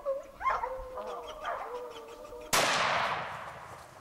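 A single sharp rifle shot cracks out loud and close on a safari hunt, its echo decaying over the bush after a few faint animal calls.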